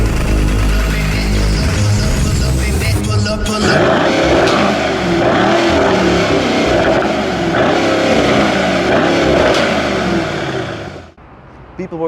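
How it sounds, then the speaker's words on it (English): A 2020 BMW M135i's engine and exhaust rev loudly and up close, with rising tones early on before a sustained, dense roar that cuts off near the end. "And we will listen to the sound of the car."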